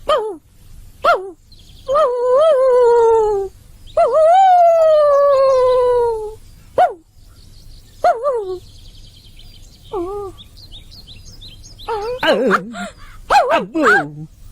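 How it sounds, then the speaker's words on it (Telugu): A dog howls in long, drawn-out wails and gives short sharp barks in between. Later the calls become more erratic, loud and close. "కుక్క మురిగినట్టే ఉంది"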